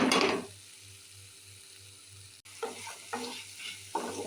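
Chilli sauce, tomato sauce, soy sauce and a little vinegar stir-fried in a pan, with a loud initial sizzle followed by scraping and stirring strokes over a steady low hum, close and clear without talk.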